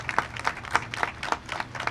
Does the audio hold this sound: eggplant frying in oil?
no